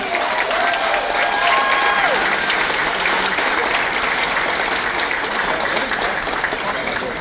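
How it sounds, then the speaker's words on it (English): A room of cruise passengers aboard Oasis of the Seas gives the ship's chefs a loud, sustained round of applause, dense clapping holding steady throughout, with a few voices and faint whistling-like tones rising briefly early on. "Maybe have a round of applause for all of them, please."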